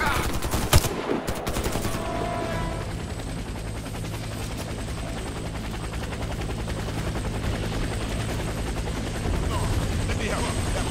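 A steady helicopter rotor drone fills a Warface co-op mission, with a burst of gunfire near the start and continuous engine noise throughout.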